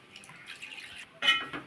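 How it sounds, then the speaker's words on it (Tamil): Water poured into a simmering kuzhambu of kutta mugali in a cooking pot, a short splashing pour close by, with soft drips and a clink of the vessel, no talking. "இப்போ ரொம்ப கெட்டியானதுனால தண்ணி ஊற்றிக்கலாம்"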